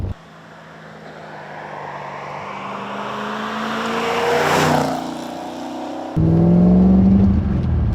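A 1980 Corvette engine revs up with rising pitch, peaking loudly before dropping, then a sudden louder steady roar close by.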